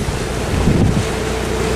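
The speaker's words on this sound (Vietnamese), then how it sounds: "Chiếc ghe dây cũng đang tăng tốc về cái cảng theo luôn anh em" A fishing boat speeds back toward port in strong wind, a loud constant roar of wind and rushing water across the microphone.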